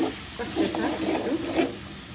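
Snakehead fish and ground spices sauté in a pan with a little water, making a close, continuous sizzle broken by soft stirring scrapes and no voices.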